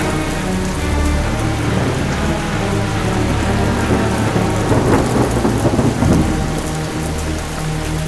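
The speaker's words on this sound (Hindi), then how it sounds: "बरसात की रात, बादलों की गड़गड़ाहट और बिजली की चमक से गांव का" Heavy rain pours steadily on a rural village night while low thunder rumbles and swells through, peaking loudly about two-thirds of the way in, with no voices.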